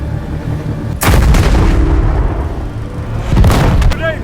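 Heavy wartime gunfire and artillery, loud, close booming blasts landing in two main bursts with rumbling echoes between them over a constant battle din.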